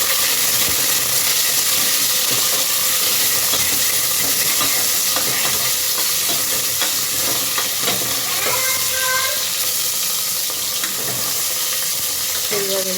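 Masala spices roasting in a pan for sambar (molke kalu saaru) give a steady, close frying sizzle with scraping stir sounds and a few brief higher clinks.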